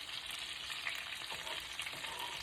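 Cabbage, sausage and bacon fry together in a pan with a steady, dense sizzle that holds at an even level throughout, with no voices.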